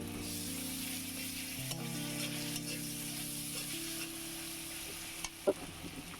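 Ginger and garlic fry in hot oil with a steady, close sizzle, a soft stirring scrape running underneath and a couple of brief clinks near the end; no one speaks.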